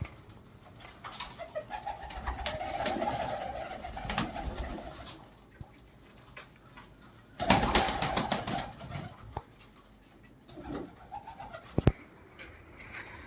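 Pigeons coo in soft, throaty bursts that come and go, with a short flutter of activity and a sharp knock near the end.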